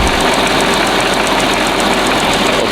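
A Mercedes-Benz CLK 430 engine idles steadily while warming up, a loud, even mechanical rumble with a fast ticking pulse running through it, close up and with no talk.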